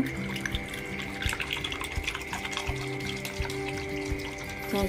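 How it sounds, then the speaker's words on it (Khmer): Vinegar poured over duck eggs to make salted preserved eggs, a steady close trickle of liquid that runs without pause for the whole stretch, with no voices. "ចាក់ទឹកខ្មេះហ្នឹងឲ្យវាលិចពងហ្នឹង"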